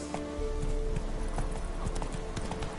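Roach, the horse from the video game Witcher 3, trots with a steady, rapid clip-clop of hooves, close and continuous, with no voices heard.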